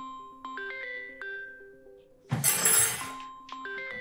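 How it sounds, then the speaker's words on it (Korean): A mobile phone rings with a repeating electronic melody of clear synthetic tones, close and steady, broken midway by a brief loud noisy clatter before the tune resumes. "전화 왔는데요"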